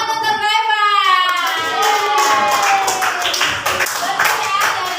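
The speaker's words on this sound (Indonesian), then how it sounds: "berikan tepuk tangan untuk Raivan" Schoolchildren in a classroom clap for a classmate, a brisk patter of many small hands rising after a sustained childlike voice tone, with young voices mixing in among the claps.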